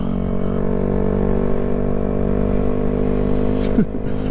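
Honda Grom motorcycle engine while riding, a steady droning hum at constant speed, followed by a quick shift near the end.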